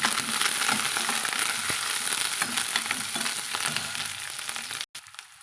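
Chopped onion, green chilies and curry leaves sizzle and crackle in hot oil while being stirred, a steady loud frying hiss that fades slightly before a brief cut near the end.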